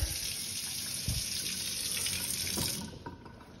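A kitchen tap in an apartment runs water steadily with a broad hissing gush, loud and close, with a couple of small splashes before the flow eases near the end.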